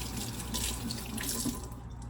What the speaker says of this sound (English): Make sure to wash your hands thoroughly in order to make sure your food is not